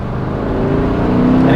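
A 1991 sports car engine, Chevrolet Corvette ZR1 or Acura NSX, roars loudly and steadily, its pitch climbing as it revs toward 7,000 rpm, heard up close throughout.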